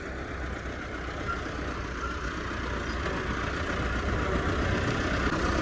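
A tractor engine runs steadily in a field being ploughed and levelled for a new volleyball ground, a continuous loud, rumbling drone with no pauses and no voices.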